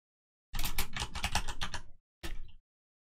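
Fast typing on a computer keyboard, a close, crisp run of key clicks for about a second and a half, a short pause, then a brief second burst of keystrokes before silence.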